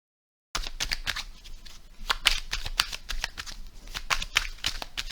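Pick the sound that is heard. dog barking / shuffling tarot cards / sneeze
shuffling tarot cards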